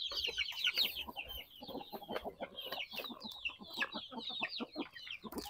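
Native chickens and chicks clucking and cheeping busily while being fed on a farm, a continuous chatter of many birds close by at low volume.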